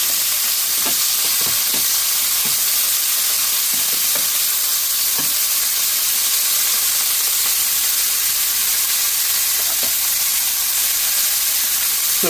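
Meat pieces browning for Hungarian paprikash, a loud continuous sizzle and hiss from the hot pan, with scattered soft taps and scrapes as pieces are turned.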